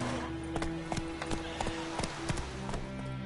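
Roach the horse gallops in The Witcher 3, hooves clip-clopping in a steady rhythm, close and fairly loud against a low background tone.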